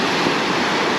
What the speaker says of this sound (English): Lovely waves.